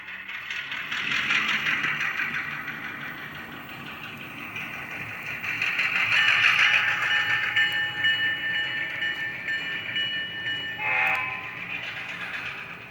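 A model passenger train engine on a layout rumbles along steadily while its horn sounds in a few drawn-out blasts, with a short sharp toot near the end.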